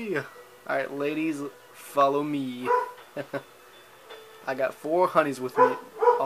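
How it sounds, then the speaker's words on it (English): A dog barks in sharp, repeated bursts throughout while someone talks over it. "Sorry about the dog barking, guys."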